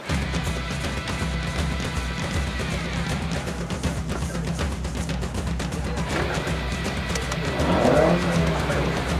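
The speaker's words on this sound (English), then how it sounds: "you get a lot of induction noise, but it goes quickly as well, and that is one of the wonderful things about this car" Mazda MX-5 GT concept racing up the Goodwood Festival of Speed hill climb, its engine roaring loud and close with strong induction noise, revs rising and falling through gear changes and a surge near the end.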